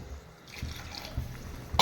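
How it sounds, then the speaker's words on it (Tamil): Water is poured into a potato masala cooking in a pan, giving a brief trickling, splashing sound that starts soft and ends with a louder close burst of liquid. "இன்னும் கொஞ்சம் தண்ணி ஊற்றிக்கலாம்"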